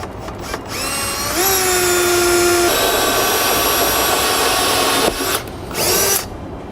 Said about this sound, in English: we need to open a hole right here to fit a 1/2 inch bolt into